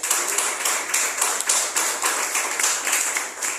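Congregation applauding at a weekly church service, dense close clapping with a faintly pulsing rhythm, loud and continuous with no talk.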